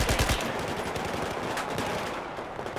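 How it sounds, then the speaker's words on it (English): Rapid automatic gunfire in Battlefield 4 at the Baku level, a dense, continuous stream of shots and bursts that rattles on steadily for about three seconds, loud and close. "Pucaj, pucaj, Gary."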